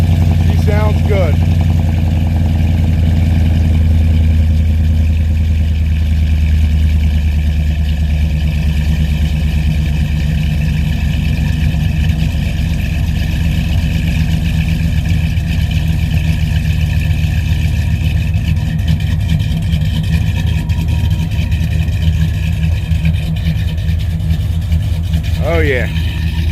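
A deep Ram pickup engine, cammed and Whipple-supercharged, rumbles loudly and close through its exhaust tips with the exhaust cutout closed, holding a steady, throaty idle for the whole stretch with little change in pitch.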